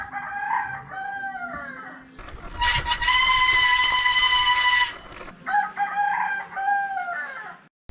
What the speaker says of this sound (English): the roosters in the island's courtyards answered me